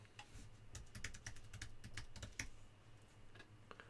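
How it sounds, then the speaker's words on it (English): Typing on a computer keyboard, a quick irregular run of close, crisp key clicks that thins out toward the end, with no voices. "You're looking at what I'm typing."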